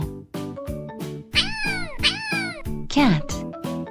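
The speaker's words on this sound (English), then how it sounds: "Cat." A cat gives several close, clear meows, some rising and falling, heard over an upbeat children's music backing.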